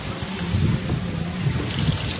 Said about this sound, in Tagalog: tingnan natin kung malakas yung tubig